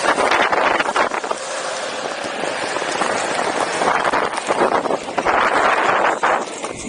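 A Onewheel rolls on soft foam wheels across rough terrain, producing a continuous vibrating rumble mixed with gusty wind buffeting on the microphone, rising and falling in waves.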